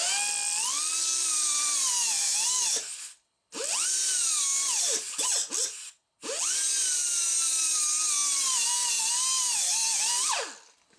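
A high-pitched power tool whines while cutting metal on a 1964 Dodge Dart, running in three long stretches with brief stops between, near and loud, with no talking.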